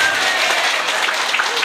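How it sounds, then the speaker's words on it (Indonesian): A crowd of women at a religious gathering in Garut claps together in a brief, dense burst of applause, with talk overlapping the clapping. "Tepuk tangan ibu-ibu."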